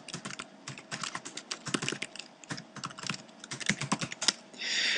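Computer keyboard keys typed in quick bursts of clicks with short pauses while an email address is entered, close and clear, ending in a brief steady hiss.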